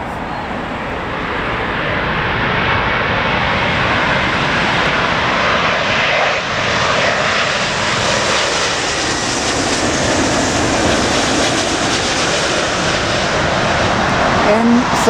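Heavy airliners, including an A380, landing at Heathrow in strong wind, a loud continuous jet engine roar that swells and sustains, with wind buffeting and people talking nearby.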